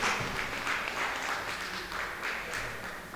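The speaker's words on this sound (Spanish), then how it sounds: "Le pido un aplauso para el Señor, porque el pastor puede estar hoy con nosotros." Church congregation applauding at a service, a steady wash of clapping that holds at even loudness for a few seconds with no voices standing out.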